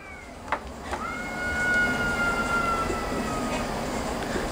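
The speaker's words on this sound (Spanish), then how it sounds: "Son gatos." Cats meow faintly in the background, with a couple of short calls and a long drawn-out tonal cry over a low ambient hum.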